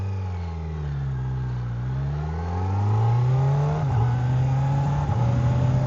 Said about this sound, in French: ils ont fait un super beau son à la moto